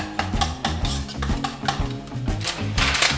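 Potato and pumpkin stirred in a pot for a frittata roll filling, a busy run of spoon clacks and scraping knocks against the pan, close and fairly loud with no talking.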